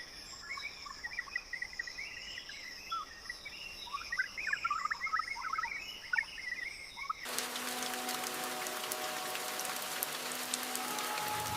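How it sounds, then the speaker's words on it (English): Heavy rain falls on leaves in a forest, first soft patter under chirping insects and birds, then switching abruptly to a dense, steady hiss of downpour. "A heavier rain begins to shift the leaf,"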